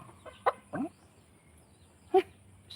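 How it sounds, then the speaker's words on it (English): A hen clucking close by, giving three short, separate clucks with quiet pauses between them and no talking. "Well, Bito, look at our lovely chicken."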